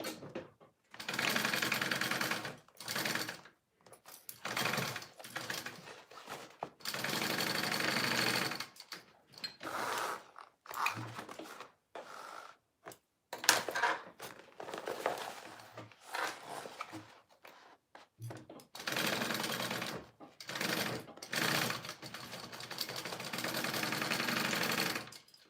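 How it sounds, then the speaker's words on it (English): A sewing machine stitches the corners of fabric in repeated bursts of steady whirring, a few seconds each with short pauses between, loud and close with no voices. "I'm going to sew my corners together using a 3/8 seam allowance again"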